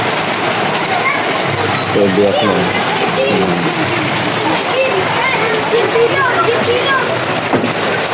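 Heavy rain pours steadily, a dense close hiss of water striking surfaces around a Yamaha Mio Soul i 125 scooter with a cracked seat, while someone talks over it throughout.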